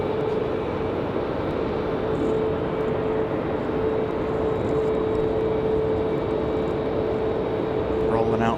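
A Southwest airliner rolls out for departure at Raleigh-Durham airport, a steady distant engine roar and drone that holds throughout, with someone talking over it.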